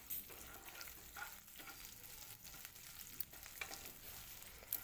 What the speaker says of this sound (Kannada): ಚೆನ್ನಾಗಿ ಫ್ರೈ ಮಾಡ್ತಾ ಇರಬೇಕು ನೋಡಿ.